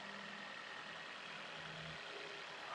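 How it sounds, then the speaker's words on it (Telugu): A 2021 Maruti Swift VXI petrol engine idles steadily and quietly, a smooth low hum with a faint mid-range drone running continuously from start to finish, heard up close without talk. "ఇంజన్ రన్నింగ్లో ఉంది, ఎలాంటి నాయిస్ లేదు, చాలా సైలెంట్ ఉంది ఇంజన్."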